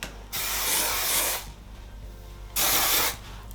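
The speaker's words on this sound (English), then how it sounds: "I sprayed hairspray over my hair" Hairspray misting onto hair while getting ready for a wedding: two close hissing bursts, the first about a second long, a short pause, then a second shorter burst.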